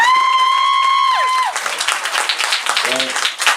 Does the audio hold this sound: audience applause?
yes